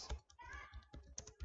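Typing on a computer keyboard while entering text into a document on a Windows Server machine: quick, uneven bursts of close keystroke clicks across a short stretch, with no talking.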